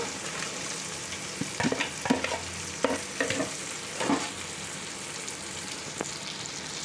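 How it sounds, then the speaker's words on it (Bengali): Prawns simmer in a thick onion gravy in a pan, bubbling with a soft steady sizzle while a spoon stirs and scrapes in several close, uneven strokes, and no one speaks. "এবার এর মধ্যে আমি চিংড়ি মাছগুলো অ্যাড করে দেবো।"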